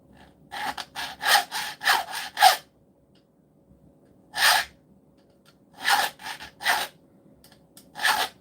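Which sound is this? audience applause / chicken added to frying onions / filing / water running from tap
filing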